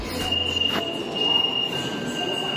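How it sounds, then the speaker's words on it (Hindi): A subway train on Line 16 pulls into a station with a rumbling roll, a steady high-pitched whine and faint screeching, under a brief voice. "और आप देख सकते हैं वहां से हमारी ट्रेन जो है वो आ रही है और ये जो है वो आ गई है।"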